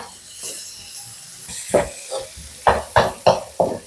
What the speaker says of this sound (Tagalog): Sangkutsahin po natin ng ilang segundo para po lumabas yung aroma at mag-translucent or mag-transparent yung ating sibuyas.